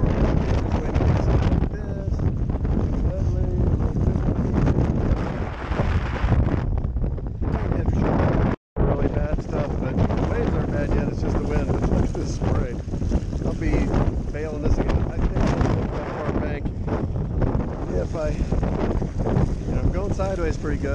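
Strong wind during a lightning storm roars steadily across the microphone outdoors near water, a dense rushing blast that barely lets up, with one brief dropout partway through.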